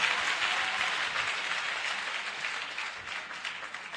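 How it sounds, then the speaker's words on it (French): A church congregation breaks into steady, sustained applause that fills the room and slowly tapers off, with no talking over it. "Acclame fortement le Seigneur Jésus pour la vie du frère"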